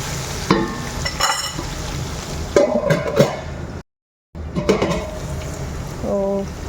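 Onions and ginger-garlic paste are stirred in a pot while they fry for a mutton curry, giving repeated scraping and sizzling strokes with a brief silent gap partway through.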